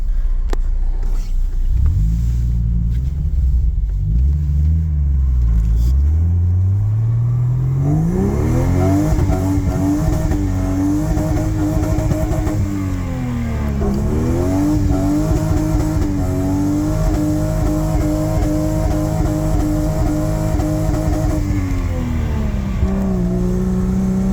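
Jeep Comanche with a swapped Vortec 4200 inline-six and 4.10 gears, loud and close, rumbling low before climbing through hard revving acceleration and holding a high, steady engine drone with small shifts in pitch.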